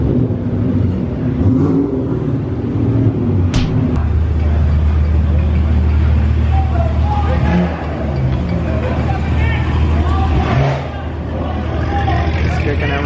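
A single-turbo 5.0 engine car revs loudly at a nighttime street racing gathering, its deep steady rumble running for the whole stretch under a busy hubbub of crowd voices.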